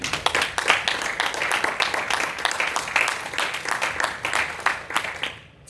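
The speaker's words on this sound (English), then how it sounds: "give yourself an applause for taking time to be open to something different" Dense audience applause fills the room at a gathering, with sharp individual claps standing out before it fades quickly at the end.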